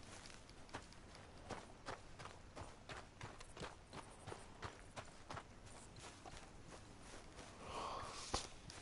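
Horse hooves clip-clop steadily in Red Dead Redemption 2, a regular walking rhythm of soft, close thuds over a low ambient bed, with a snort or breathy sound near the end.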